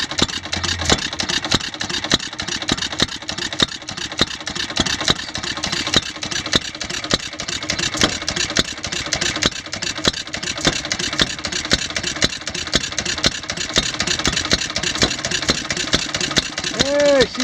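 A vintage hit-and-miss engine runs steadily and close at hand, burning black smoke from too much gas, its dense mechanical clatter continuing without a break while people talk nearby.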